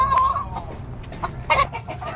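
Two roosters tethered apart from each other give short clucks and a brief crowing call, close by, with a steady low background rumble.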